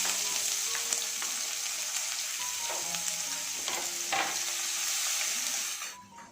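Chopped onion frying in a pan with bay leaves, cumin, sugar and garam masala, a dense, loud, continuous sizzle with occasional stirring knocks that fades out at the very end.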